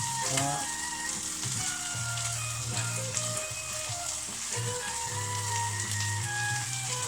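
Onions frying in a pan for spicy chicken noodles, a dense, continuous close sizzle with crackling pops and occasional stirring clinks, steady throughout.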